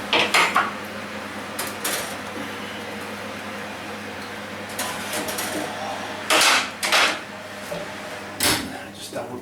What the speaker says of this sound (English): so let's get them out of the oven